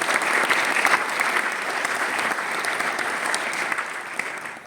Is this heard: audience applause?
yes